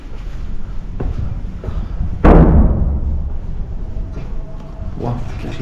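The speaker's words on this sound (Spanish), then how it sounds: "se había escuchado una explosión" A single sudden boom erupts partway through, a broadband thud that decays over a couple of seconds amid ongoing background rumble, heard in the ruins of Palmyra.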